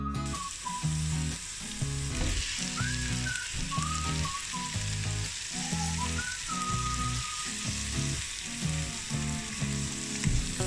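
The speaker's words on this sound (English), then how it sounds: "So I'm going to let these fry for maybe 3 minutes, just until they're starting to go a little bit see-through" Onions fry in a pan, giving a steady loud sizzle with rhythmic stirring scrapes throughout and a faint whistling tone drifting above it.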